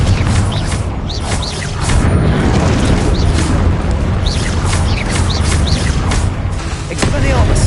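Confringo blasting spell going off in Hogwarts Legacy, a sustained roar of booming explosions and crackling magic under continuous loud game combat noise, with a few sharp bursts standing out.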